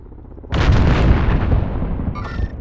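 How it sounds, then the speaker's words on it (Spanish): A loud grenade blast in Call of Duty: Modern Warfare erupts suddenly after a quiet moment, a heavy booming burst that rolls on with a long rumbling tail and fades slowly. "¡Granada lanzada!"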